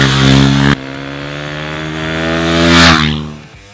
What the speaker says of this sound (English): I'm gonna prove you the 147 kilometers per hour that this bike can make